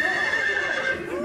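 A horse in a Russian cartoon neighs, a loud, bright whinny lasting just over a second, with faint hoof clops underneath.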